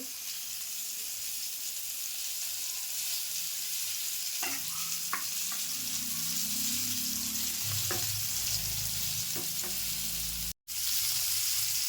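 Pomfret fish pan-frying on one side gives a soft, continuous sizzle with occasional light clinks and a low rumble of the pan being moved, close but fairly quiet, with no voices.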